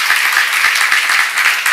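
Close, loud audience applause at a church seminar, a dense and steady burst of clapping with individual claps audible within it.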